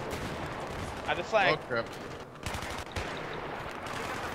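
Gunfire in the shooter Battlefield 3, with bursts of shots cracking around a player, who talks over the fighting.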